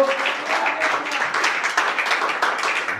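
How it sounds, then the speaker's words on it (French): Congregation applauding during an evangelical Christian worship service in church, a dense, loud wash of many hands clapping continuously, with a faint sustained tone underneath early on. "Il y a quelqu'un qui peut applaudir le Seigneur."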